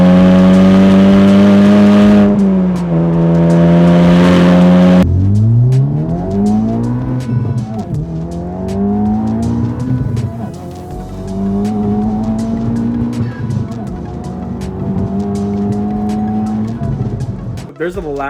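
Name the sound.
Honda Civic Type R FL5 titanium valve exhaust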